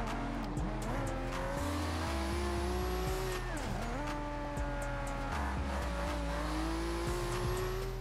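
Twin-turbo 2JZ-swapped Subaru BRZ in Forza Horizon 2, engine droning steadily and shifting through gears with tire squeal, continuous and loud with no pauses.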